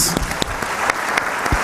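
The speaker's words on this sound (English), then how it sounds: "let me ask all of us to clap for his courage, please" Audience applause at a film and TV market session, a steady patter of clapping with a few sharper individual claps standing out close by, no talking over it.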